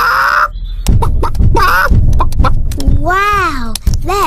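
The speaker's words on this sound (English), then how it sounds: "Chickens." Cartoon chickens on an elf farm cluck and squawk in short bursts, with a long rising and falling call near the end, mixed with animated voices talking.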